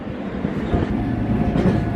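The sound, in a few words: underground train passing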